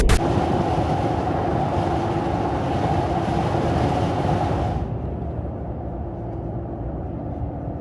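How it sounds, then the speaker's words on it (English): Steady broadband road roar fills the cabin of a Toyota Prado 250 fitted with larger tyres, a constant loud rumble and hiss that drops to a quieter drone near the end, with no talking. "But what about road noise?"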